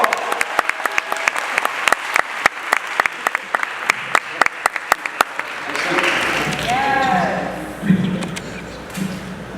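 At a live event in Washington, DC, the audience claps for a speaker being introduced, with loud, sharp claps up close over a crowd's applause, which then fades into cheering and voices as people talk.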